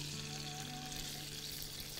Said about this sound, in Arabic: يا دوبك الثوم يتشوح تشويحه بسيطه